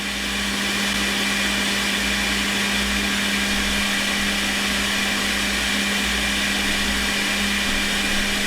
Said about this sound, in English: You can see here it's priming the nozzle, lots of filament coming out.